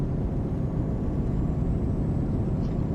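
Heavy truck engine in Euro Truck Simulator 2 revving hard in a low gear on an A road, a steady loud droning rumble that holds constant without pause.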